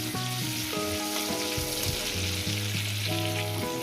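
Tomatoes frying in oil in a pan for a Bengali potato and fish curry, a loud, continuous close sizzle with a crackling, rain-like texture and a steady hiss throughout, no voices.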